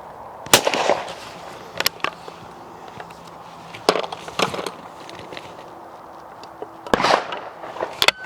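Folding .410 shotgun firing at clay targets outdoors: about six sharp reports spaced a second or more apart, some with short echoing tails, over a quiet background with no talking.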